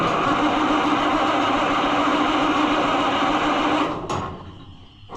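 An Oliver 1800 C series tractor engine runs with a loud, steady rumble for about four seconds. It then drops off sharply and fades lower, with no voices heard.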